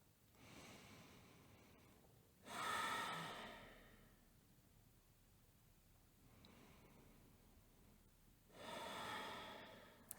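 Slow, deep yoga breaths come close and soft, two long loud exhales several seconds apart with quieter inhales between them in an otherwise silent room.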